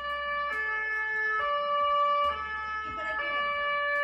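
A two-tone video game ambulance siren alternates steadily up and down, loud and close, repeating several times against a low rumble.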